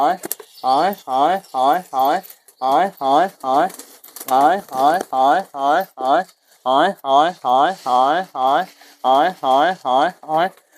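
Pet pigeons coo close by while being fed, a loud run of rhythmic, throaty calls repeating in quick bursts with short pauses between.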